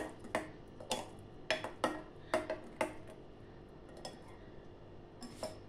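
A spoon stirs bottle gourd raita in a bowl, giving a run of light, rhythmic clinks and taps that fade toward the end, quiet and close with no voices.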